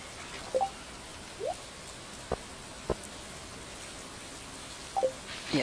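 Light rain falling in the farming video game Stardew Valley, a soft steady hiss with a few sparse drip-like ticks and chimes, faint and continuous with no talk.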